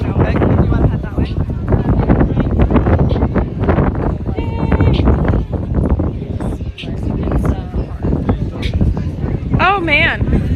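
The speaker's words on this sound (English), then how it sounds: "it is very windy" Strong wind buffets a microphone outdoors on the Hawaii coast, loud gusty roaring rumble throughout, with people talking over it.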